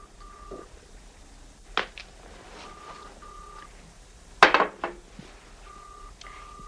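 A telephone number is dialed on a touch-tone phone: short electronic keypad beeps come in small groups with brief pauses and a few handset clicks and bumps, close and fairly quiet, with no talking.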